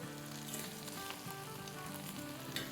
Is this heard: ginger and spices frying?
yes